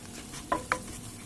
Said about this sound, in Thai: จากนั้นเราก็เอาเข้ากุ้งนะคะ เข้าไปทอดหรือว่าทอดไร้มันเนาะ